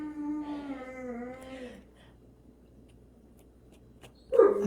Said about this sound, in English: I have to let the dog out.